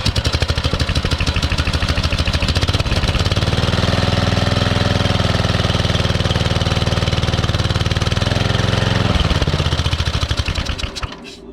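A Briggs and Stratton engine on a Cheetah ride-on mower cranks with rapid chugging, then catches and runs at a loud, steady idle for several seconds before cutting back to sputtering and stopping.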